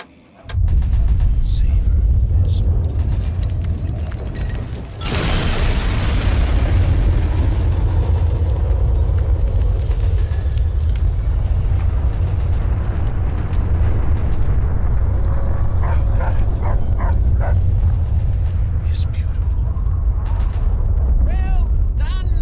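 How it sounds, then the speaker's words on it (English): A nuclear bomb detonates in the town of Megaton in the video game Fallout 3: a sudden massive blast erupts and swells into a long, heavy, roaring rumble that fills the scene and slowly rolls on with debris-like crackle. "Another nuke we could detonate."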